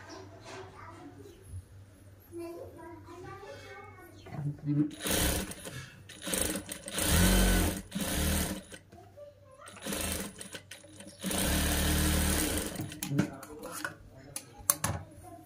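A sewing machine stitches a child's frock from an old saree in several bursts of rapid, loud mechanical whirring, separated by pauses in which someone talks.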